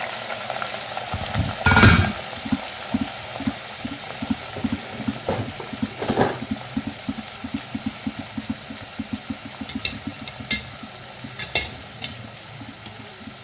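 Half a kilo of potatoes fries in hot oil for a potato curry, a steady sizzle broken by rhythmic scraping and stirring strokes, with one louder clatter near the start.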